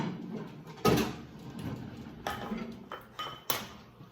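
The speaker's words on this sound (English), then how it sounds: "I'm gonna get a plate out." A plate is taken out in a home kitchen: a clatter of dishes and a cupboard or door movement, then several lighter clinks and knocks, close and fairly quiet.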